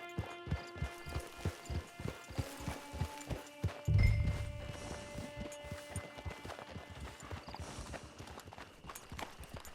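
Horse hooves clip-clop in a steady rhythm in Red Dead Online, close and clear, with a brief louder thump near the middle and game ambience underneath.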